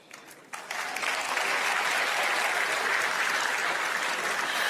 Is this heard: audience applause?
yes